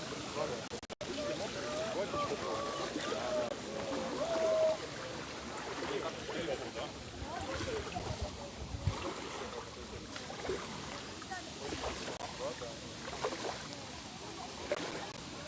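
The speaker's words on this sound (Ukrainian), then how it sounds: "Ви чуєте хвилі?" Small waves lap against the shore of Obolon island on the Dnipro in Kyiv, a faint, continuous wash of water that carries on throughout, while a person speaks quietly now and then.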